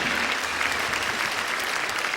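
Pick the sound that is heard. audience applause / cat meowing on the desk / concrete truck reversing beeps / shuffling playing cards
audience applause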